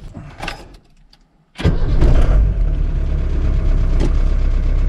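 Car engine cranking and firing into a loud steady idle after a brief quiet pause, started with a TOPDON JS2000 2000A jump starter on boost mode.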